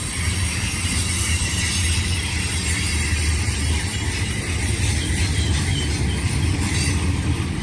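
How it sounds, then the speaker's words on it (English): BNSF mixed manifest freight train with many types of cars rolling past outdoors on a calm day, a steady, continuous rumble and clatter of wheels and couplings with no voices. "Definitely a mixed freight train."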